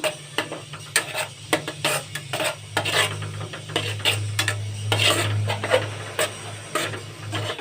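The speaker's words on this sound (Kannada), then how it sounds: "ನೋಡಿ ಈ ಥರ ಮಿಕ್ಸ್ ಮಾಡ್ಕೊಳ್ಳಿ ಹಸಿ ವಾಸನೆ ಹೋಗುವವರೆಗೂ ನೀವು ಈ ಥರ ಚೆನ್ನಾಗಿ ಫ್ರೈ ಮಾಡ್ಕೋಬೇಕು" Palak aloo masala being stirred and fried in a pan, with a spoon clinking and scraping against the metal in irregular taps over a low steady hum.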